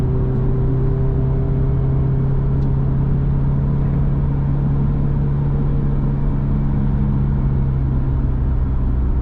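Car driven on a track, engine droning loud and steady throughout with a constant low rumble and sustained tone, close to the listener and with no voices.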